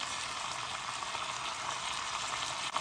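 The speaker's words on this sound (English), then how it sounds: "Now we're gonna add the green beans, and we're gonna mix it well with the beef." Green beans frying with beef in a pan, a dense continuous close-up sizzle with faint stirring and a brief knock of the utensil near the end.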